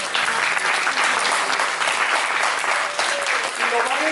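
A church congregation claps steadily in praise of the Lord, a dense, sustained wash of hands from many people filling the room, with voices faintly mixed underneath.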